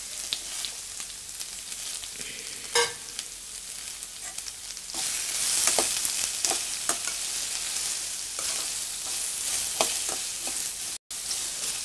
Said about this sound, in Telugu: ఇప్పుడు ఈ తరిగి పెట్టి ఉంచిన సీమంకాయలు ఉన్నాయి కదా, వాటిని ఈ పోపులో వేసి బాగా కలపాలి.